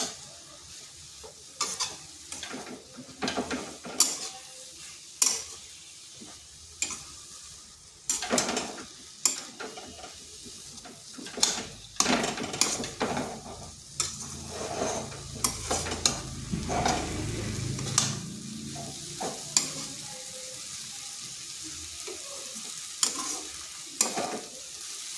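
Drumstick (moringa) leaves for dal sizzle steadily in a hot pan while a spoon stirs them, scraping and clinking in an irregular rhythm of sharp strokes over a continuous frying hiss, close and moderately loud, with no talking.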